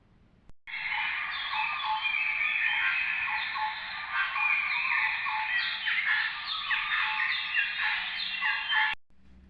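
Birds sing in an autumn forest, a dense continuous chorus of chirps and trills that starts abruptly and runs for several seconds, loud and close, with no talking.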